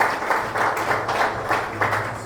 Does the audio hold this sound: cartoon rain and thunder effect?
no